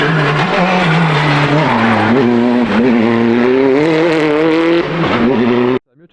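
A rally car at the Monte Carlo Rally roars past loud and close, its engine note rising and falling through gear changes for about six seconds before cutting off abruptly.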